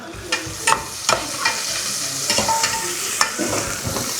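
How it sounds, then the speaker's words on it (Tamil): Onions sautéing in a pan with steady stirring, a low frying sizzle broken by repeated scrapes and clacks of the spoon against the pan, close and fairly loud with no talking. "நெட்டில் வெங்காயம் நல்லா வதக்கிட்டோம்"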